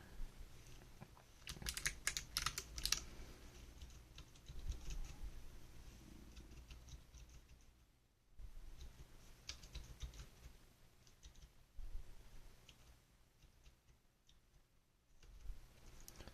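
Keys on a Pinky4 keyboard are pressed in scattered bursts of soft clicks and taps, some brief runs and some pauses, quiet and close, with no talk.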